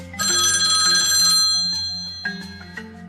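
A telephone bell rings loudly with a bright metallic trill for over a second, then fades, followed by a few softer clicks and tones.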